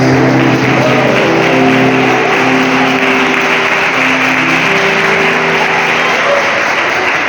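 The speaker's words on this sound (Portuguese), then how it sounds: "pode glorificar Ele com palmas, bem alegre e paz" A church congregation applauds steadily, a dense wash of clapping that stays loud and even throughout, with faint tonal hum beneath.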